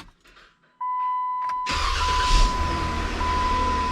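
A Jeep JK with the Pentastar engine, just fitted with a new starter, cranks and catches. A steady tone comes first, then a loud roar of the engine that settles into a running sound.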